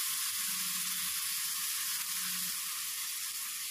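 Onion paste sizzles in a shallow layer of hot oil in a pan, giving a steady, bright frying hiss that stays even throughout, with no talking.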